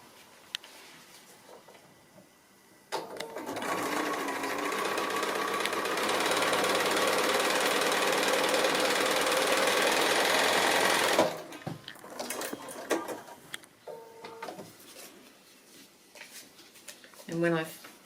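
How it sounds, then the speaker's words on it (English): A sewing machine stitches a seam on a foundation-pieced quilt block, running in one continuous loud burst of about eight seconds, bracketed by someone talking quietly and fabric handling before and after. "I'm going to go to the sewing machine and stitch that in place."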